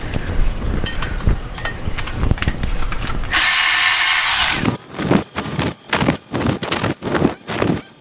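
A power tool whirs and ratchets while removing 9mm 12-point pressure plate bolts from the clutch of a 1993 VW Cabriolet. A sustained burst of spinning is followed by short, repeated rattling pulses, loud and close.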